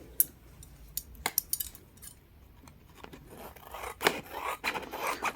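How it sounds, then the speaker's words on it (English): Scissors trim the edges of paper junk journal tags in short, crisp snips and rasping cuts, irregular and close, with quiet gaps between bursts. "I usually just trim any little bits off that are only coffee paper"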